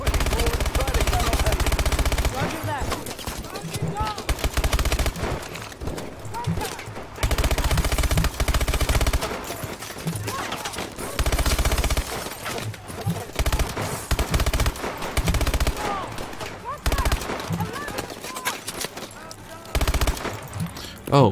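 Rapid automatic gunfire from a Call of Duty Advanced Warfare match, loud, dense bursts with short gaps, sprayed almost continuously with battle sounds all around.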